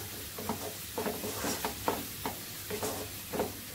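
Garam masala frying in oil in a pan for paya pulusu, a steady close sizzle with repeated soft stirring scrapes at an even rhythm, no voices.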